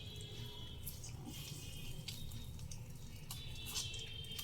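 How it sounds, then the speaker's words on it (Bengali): Soaked soybean chunks being rinsed under running water in a sink, a steady low gush with occasional light splashes and clinks, fairly faint and continuous. "এবার নর্মাল জল দিয়ে আবার একবার সেমভাবে ধুয়ে উঠিয়ে নেব"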